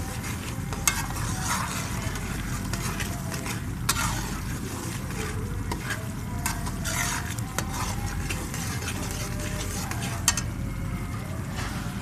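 Semolina roasting in ghee is stirred steadily in a pan, with soft continuous scraping and faint sizzle and occasional sharper utensil clicks throughout, close and fairly quiet.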